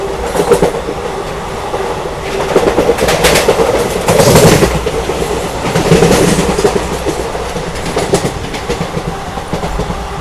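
A special passenger train of ICF coaches runs at about 100 km/h at night, a loud, close rumble with rhythmic clickety-clack of wheels over rail joints throughout.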